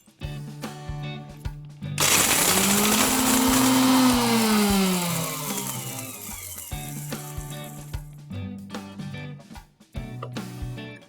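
An electric grinder blitzes whole green and black cardamoms, pepper, cloves, cinnamon and black cumin seeds into garam masala, a loud whirring roar with a shifting motor pitch lasting about six seconds, framed by sparse rattles and clicks before and after.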